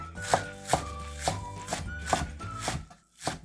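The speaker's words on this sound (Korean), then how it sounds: "쪽파는 한 2cm 간격으로 이렇게 썰어 주셔요" Green onions are sliced into roughly 2 cm pieces on a cutting board for nabak kimchi. About seven crisp, evenly spaced knife chops sound close up over a faint steady background hum.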